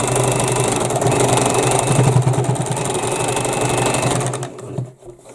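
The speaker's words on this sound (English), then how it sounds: "we're just going to sew a little bit past them so that they have no chance of coming undone either" A sewing machine runs steadily, stitching a little past loose threads to lock them in, its motor whirring and needle chattering loud and close for about four and a half seconds before it stops.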